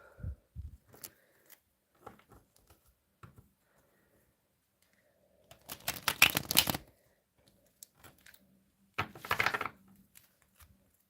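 Runic tarot cards are shuffled in a few quick riffling bursts, crisp and close, separated by quiet stretches with small handling taps and clicks.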